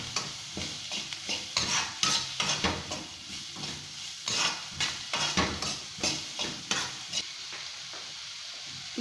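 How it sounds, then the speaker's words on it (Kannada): Chopped onion and coriander leaves frying in oil in a pan, a steady sizzle broken by repeated scraping stirs at a fairly quick, uneven rhythm, close and moderately loud with no talking. "ಫ್ರೈ ಮಾಡ್ಕೊಳ್ಳೋಣ ಎಣ್ಣೆಯಲ್ಲಿ."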